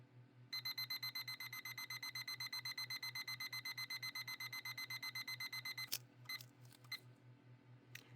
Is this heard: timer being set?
yes